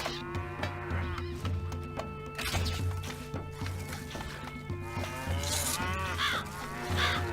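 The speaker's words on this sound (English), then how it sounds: "it looks like they're on their way to take down some enemy cattle." Cattle in the strategy game Stronghold Crusader moo repeatedly, with several drawn-out lowing calls following one another over a steady layer of in-game background sound.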